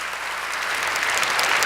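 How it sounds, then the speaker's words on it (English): Lecture-hall audience applauding a talk by Jim Simons, a loud, dense, close roar of clapping that builds slightly over under two seconds, with no speech. "go ahead, clap."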